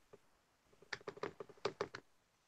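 Quiet typing on a computer keyboard, a brief isolated tap then a quick burst of about ten clicky keystrokes in an uneven rhythm, soft and close.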